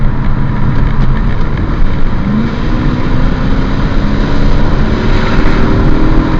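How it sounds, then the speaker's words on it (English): A BMW E39 535i with a V8 engine and quad exhaust drones steadily and loudly, with a continuous deep rumble that holds throughout, alone with no talk. "this car sounds so nice I could drive this car just on the sound alone"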